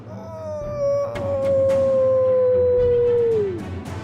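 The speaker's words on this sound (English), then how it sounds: "Serenity turns towards the howl" A werewolf howls in a single long, loud, close cry that holds steady and then slides down at the end, against a low rumbling ambience with a few faint knocks.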